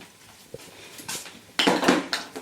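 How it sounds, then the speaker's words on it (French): Something is put into a saucepan in a home kitchen, giving a few light clinks and clatters of pots and utensils. A louder burst of metallic scraping comes near the end. No one speaks. "Qu'est-ce que tu viens de mettre dans la casserole, là?"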